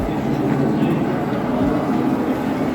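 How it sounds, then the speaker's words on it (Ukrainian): Model trains running through a miniature world museum in Rotterdam, giving a steady low rumbling and whirring hum that continues throughout, with faint background activity and no clear talk. "Так поїзди ганяють"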